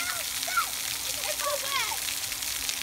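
Water sprays and splashes at an outdoor splash pad, a constant hiss with children's voices and squeals rising over it.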